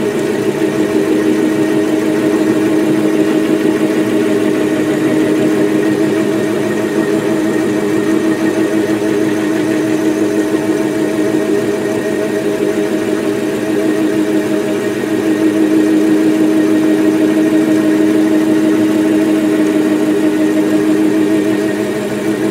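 A running lathe-type machine hums steadily while a knurling tool with knurling wheels works oiled metal, a continuous close drone with a faint grinding texture and no pauses.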